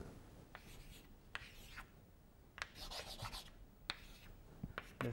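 Pen or chalk writing on a board during a physics lecture on photon self-energy, several separate bursts of scratchy strokes and taps with short pauses between, close but quiet.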